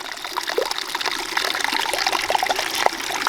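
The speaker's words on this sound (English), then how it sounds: "we got our waterfall spitting out the water" Water spills from a small waterfall into a gold panning setup, a steady close splashing trickle with bright droplet pops running throughout, no talking.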